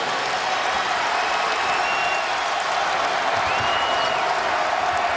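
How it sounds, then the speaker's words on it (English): A basketball arena crowd at Cincinnati roars and cheers in a dense, continuous wash of noise, loud and steady with scattered applause mixed in throughout. "Listen to this crowd at Cincinnati."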